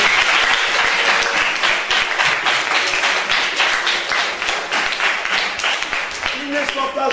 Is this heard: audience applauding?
yes